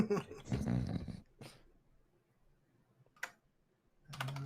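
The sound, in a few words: voice imitating a small dog or goblin growling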